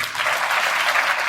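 Congregation applauding during a church sermon at Pind Bodla, a dense, steady wash of many hands clapping loudly throughout with no pauses.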